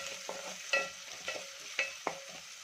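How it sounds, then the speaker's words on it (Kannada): Onions fry in a pan for a spinach and chickpea curry, making a soft sizzle under four or five distinct scraping stirs of a spoon, all close up and with no voices. "ಈಗ 1-2 ಸೆಕೆಂಡು ಚೆನ್ನಾಗಿ ಫ್ರೈ ಆಗಲಿ. ನೋಡಿ, ಈರುಳ್ಳಿ ಕೂಡ ಚೆನ್ನಾಗಿ ಫ್ರೈ ಆಗಿದೆ."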